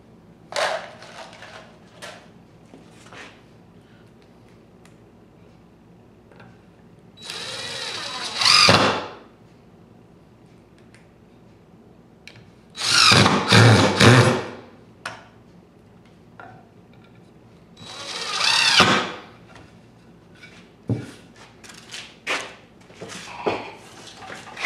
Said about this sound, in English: I'll just mount that hanger, center that hanger, and make sure you're using 3/4 inch screws.